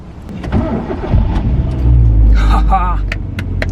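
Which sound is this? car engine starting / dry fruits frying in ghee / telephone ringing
car engine starting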